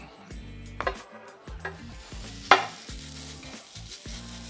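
Pork stir-frying on a Ninja Foodi Pro XL griddle, a soft sizzle broken by a few sharp spatula scrapes and taps, with low background music running underneath.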